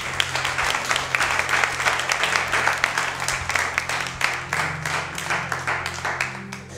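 A church congregation applauds, a dense, sustained clapping from many hands that swells and stays strong for several seconds with a low hum beneath it, then thins slightly toward the end.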